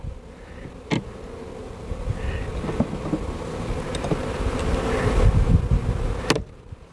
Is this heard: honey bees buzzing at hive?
yes